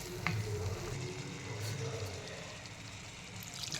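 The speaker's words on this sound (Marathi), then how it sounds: "पनीर आणि पनीरचे क्यूब्स घालून याला व्यवस्थित एकदा परतून घ्यायचं" Paneer cubes being stir-fried in a pan make a close, even sizzle with occasional stirring scrapes, no speech.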